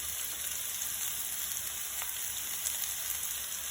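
Sliced onions sauté in a pan with salt for Kerala-style chicken rice, a faint, steady frying hiss with a few tiny crackles, close but quiet and without speech.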